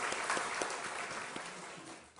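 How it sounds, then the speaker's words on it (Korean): A church congregation claps during a Sunday worship service, dense steady applause heard from some distance for about two seconds, fading slightly at the end. "모두 수고하신 분들에게 우리 박수로 한번 감사를 표현했으면 좋겠습니다."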